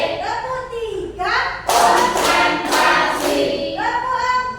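A class of standing students claps in a counted clapping routine, with a dense burst of hand claps at the middle and voices calling out before and after it.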